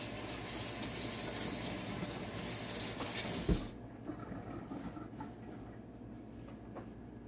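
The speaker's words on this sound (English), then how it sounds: "I'm just washing my hands." Tap water runs in a steady, close rush at a kitchen sink as hands are washed during pizza making, cutting off after about three and a half seconds and leaving quieter room sound.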